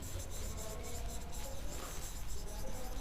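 Faint scratchy strokes of a teacher writing numbers on a classroom board during a maths lesson for young children, soft rubbing marks under a low background hum with no talking.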